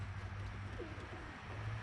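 Birmingham Roller pigeons cooing softly at close range, a brief low, throaty coo over a quiet hum of background sound.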